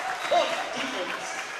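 At a high school girls' varsity volleyball game, crowd applause and cheering wash through the gym for a moment while an announcer speaks over it.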